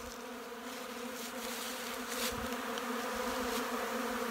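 Honey bees buzz around open hive colonies at an open dry-feeding site, a dense, continuous swarm hum with individual bees droning past close by, steady and moderately loud with no talking.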